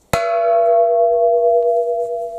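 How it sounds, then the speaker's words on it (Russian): A single strike of a church bell at a village church, a sharp metallic hit followed by a loud, long, clear ringing tone that slowly fades over two seconds, with faint background noise. "Это один удар, это колокол."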